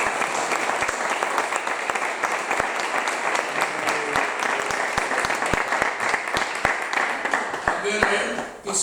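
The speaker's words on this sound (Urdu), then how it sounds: "تو مسیح کے لیے تالی۔" Church congregation applauding together, a dense, steady wall of clapping with sharp individual claps standing out, loud and sustained throughout before tapering off at the very end.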